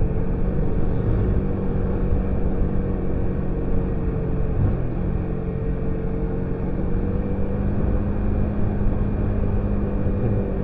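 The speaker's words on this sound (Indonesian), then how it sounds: "Mesin aja sampai teriak dikasih pudunan kalau kita tanjakan kan." A motorcycle engine labors in second gear up a steep road on a ride home from Sawarna toward Palabuhanratu, a steady loud drone with a strained, whining tone that holds for the whole stretch.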